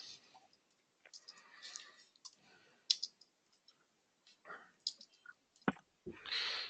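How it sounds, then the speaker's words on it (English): Keys being typed on a computer keyboard during aviation weather planning, scattered soft clicks and taps in irregular bursts, close and quiet with short pauses between. "So we type this in here really quick."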